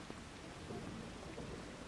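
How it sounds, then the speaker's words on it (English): Rain and thunder in Farming Simulator 25 form a faint, steady hiss of falling rain with a low rolling rumble beneath, quiet and distant throughout. "It's raining though"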